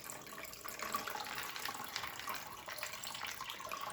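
Water is poured from a pot and drained away for popcorn whiskey making, a steady splashing rush of liquid that continues without pause.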